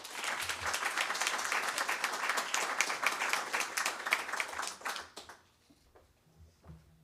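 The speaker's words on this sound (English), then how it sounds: "Caden Morgan, big round of applause." A school board meeting audience gives a big round of applause to recognize a young man, steady dense clapping filling the room for about five seconds before dying away into near silence.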